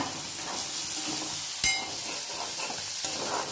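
Onion and tomato fry in a pan over a low flame, a continuous soft sizzle and hiss with one sharp clink of a utensil midway and no talk.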